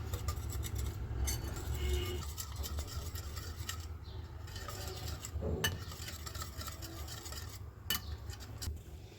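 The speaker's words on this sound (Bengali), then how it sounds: "এবার সব কিছু মিশিয়ে নিব।" Chicken marinade with soy sauce and a raw egg being stirred in a bowl for crispy thread chicken, giving a steady low scraping and swishing with occasional light clinks of utensil against dish, fairly close, with no talking.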